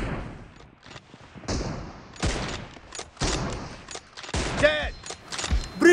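M24 sniper rifle fire in BGMI team deathmatch: several sharp, loud gunshots in quick succession among other distant shots, with brief bursts of excited talk between them.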